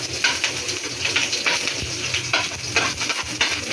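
Garlic sizzling in hot oil in a pan for adobong sitaw, a steady crackling fry with intermittent stirring scrapes throughout, close and moderately loud, with no voices.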